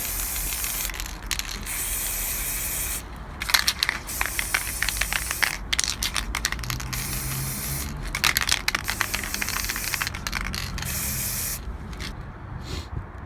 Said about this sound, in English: So I've taped off the Kawasaki sign and the ignition area. So doesn't need to be special, just a quick little spray up.